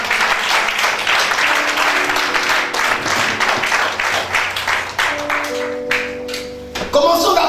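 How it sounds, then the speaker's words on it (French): A church congregation at a French-language seminar service claps and applauds together, loud and continuous for several seconds, with voices mixed in and a few sustained tones underneath before it fades. "Acclame Jésus s'il te plaît"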